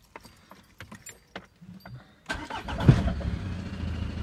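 Small clicks and key rattles come first, then a car engine with a fitted turbo pressure gauge cranks and catches into a steady idle, close and fairly loud.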